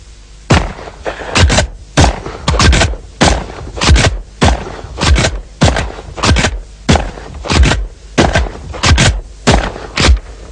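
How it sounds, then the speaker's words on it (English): A Benelli shotgun fires again and again at a clay target and at its own ejected cartridges, a loud, close series of sharp blasts in quick pairs and bursts that keeps up throughout. "with the Benelli you can make new targets by shooting the empty cartridges as they come out of the Benelli"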